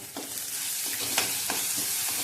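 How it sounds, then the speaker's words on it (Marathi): Onion, tomato, ginger, garlic and whole spices fry in hot oil with a steady, dense sizzle, while a spoon stirs and scrapes the pan in regular strokes. No one speaks. "आता कांदा टोमॅटो आलं लसूण चांगलं तेलात भाजले गेले, यात आपण खडे मसाले टाकूया"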